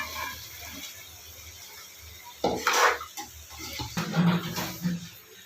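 Soaked poha is stirred into a pan with a metal spoon, giving a few scraping clinks and clatters against the pan. Quiet at first, then a cluster of louder bursts toward the end.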